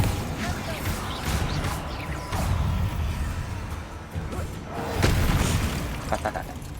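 Bombarda, an explosion spell in the video game Hogwarts Legacy, lets off deep booming blasts inside a dense, continuous wash of battle noise that stays loud from start to finish.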